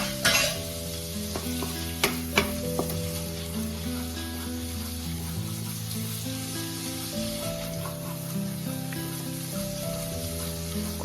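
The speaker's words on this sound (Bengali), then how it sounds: "খুন্তির সাহায্যে ততক্ষণ নাড়তে হবে যতক্ষণ না কাঁচা গন্ধটা চলে যাচ্ছে আর তেল ছাড়ছে।" Garlic, ginger paste and chopped chilli fry in oil over a low flame while a spatula stirs them for a Bengali egg kosha, a soft continuous sizzle with occasional scrapes and light knocks under faint background music.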